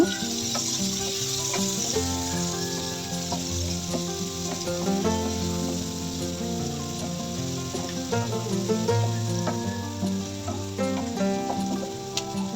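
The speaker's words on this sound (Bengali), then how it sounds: "একই তেলে এখন আমি পেঁয়াজ আর হচ্ছে কাঁচা মরিচ ভেজে নেব" Onions and green chilies fry in oil in a pan, giving a continuous sizzle over a tonal, music-like background throughout.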